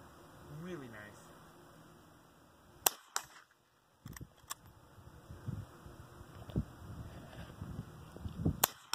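A Winchester 9422 XTR .22 rifle fires several sharp, separate cracks outdoors, spaced irregularly with faint handling noise between shots.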